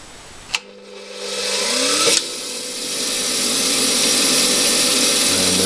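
A bench grinder spins up a balanced CBN wheel after a sharp click, its steady whining hum building and then holding loud and close with a slight vibration, no voices.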